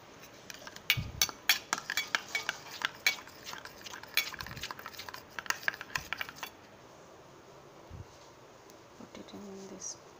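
A spoon mixes herbs, oregano and red chili flakes in a bowl for a homemade tava pizza, giving a run of quick, close metallic clinks and scrapes that thin out after several seconds to quiet background.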